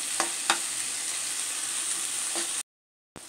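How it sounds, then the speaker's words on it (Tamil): Onion and chopped tomato sauté in a pan, a continuous close sizzle with a few spatula scrapes, then a sudden half-second silence before the frying resumes. "இதையும் சேர்த்து நல்லா வதக்கிக்கலாம்."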